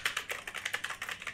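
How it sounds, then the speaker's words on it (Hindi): Rapid keyboard typing during a PUBG-style battle royale game stream, a quick run of crisp, evenly spaced key clicks close to the mic with no talk over it. "कीबोर्ड का इतना आवाज आ रहा है"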